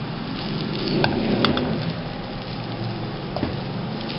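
Rice with sauce and vegetables fries in a pan with a steady close sizzle and crackle, broken by a few light clinks of a utensil stirring.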